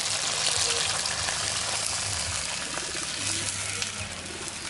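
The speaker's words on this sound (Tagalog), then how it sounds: "Lagyan natin ng tubig." Water pours steadily into a pan with a continuous splashing rush, fairly close, with faint background noise.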